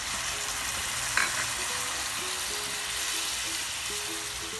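Boiled soybeans tipped into sautéed onions in a pan for a Telugu-style curry, sizzling evenly and continuously at close range, with a short clatter early on and no voices.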